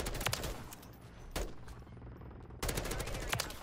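Rapid automatic gunfire rattles through a wall in Modern Warfare 3, an M4 rifle firing in close, loud bursts separated by short gaps, with a quieter stretch in the middle.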